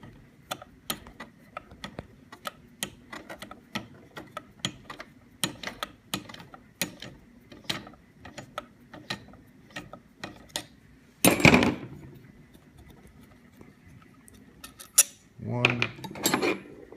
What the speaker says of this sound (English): you need to be able to get in and loosen these Allen nuts